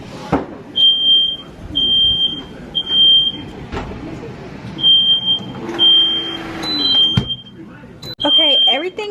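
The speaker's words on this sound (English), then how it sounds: "Don't mind the smoke detector going off." A smoke alarm beeps in repeated bursts, shrill and steady, with brief gaps between, while kitchen clatter and background noise carry on underneath.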